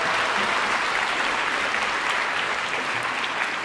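Audience applause after a youth orchestra concert piece, a dense, steady sustained clapping that fills the hall evenly from start to finish with no voices over it.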